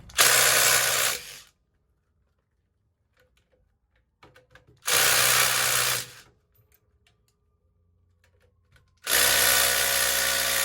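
A power tool, likely an impact wrench or powered socket driver, takes nuts off a 12-inch electric trailer brake assembly in three loud, whirring bursts of about one to one and a half seconds each. Quiet gaps between them hold faint clinks.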